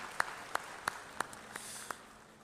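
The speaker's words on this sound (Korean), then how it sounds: "우리 한 번 더 환영의 박수 한번 하겠습니다" About six faint, evenly spaced claps ring out at a welcome during a Korean church newcomers' worship service, slow and rhythmic with quiet room tone between them.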